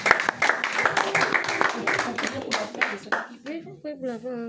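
A church congregation bursts into applause to acclaim Jesus, dense clapping mixed with cheering and loud voices, then fading as a single voice rises at the end.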